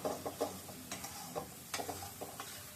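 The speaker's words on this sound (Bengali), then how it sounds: "চুলা ওই যে কড়াইটা ঢকঢক করে নড়তেছে আর কি, ওইটার শব্দটা আসতেছে" Wok (kadai) clattering and rattling on a stove while spices fry, giving irregular knocking bursts over a faint sizzle, close and fairly quiet, with no talking.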